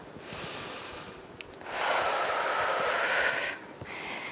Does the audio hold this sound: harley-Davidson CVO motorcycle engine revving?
no